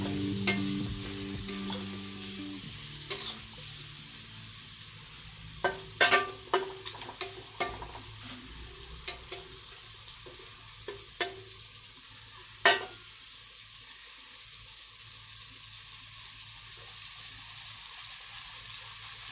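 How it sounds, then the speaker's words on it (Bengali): Onions frying in a pan for a salted hilsa fish and eggplant-potato dish, a steady soft sizzle with scattered sharp crackles and stirring clicks, close and fairly quiet, no voices. "পেঁয়াজটা ভাজা ভাজা হোক।"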